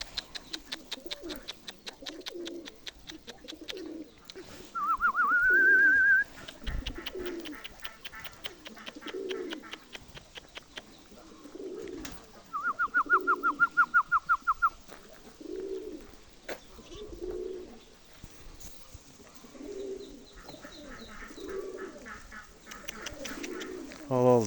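Pigeons cooing in a repeated rhythmic series of low throaty calls, close by, with two bright whistling bursts and faint chirps in between.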